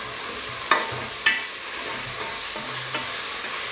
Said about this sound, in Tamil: இதை ஆட் பண்ணி விட்டதுக்கப்புறம் நல்லா பச்சை வாடை போகிற வரைக்கும் நல்லா வதக்கி விட்டுக்கோங்க.